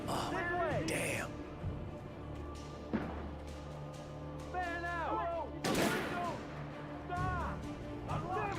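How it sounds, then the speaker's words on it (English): Gunfire in the video game Alan Wake, with sharp shots scattered across the clip under frequent chirping and whistling game sounds, while someone talks throughout. "Why are they shooting at us?"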